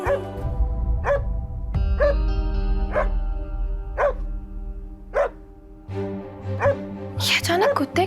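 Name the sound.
dogs barking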